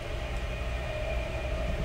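Rumble of a Japanese overnight sleeper express, heard from inside a B-class single-berth compartment bound for Tokyo: a steady low running drone with a faint sustained tone, continuous and even, no voices.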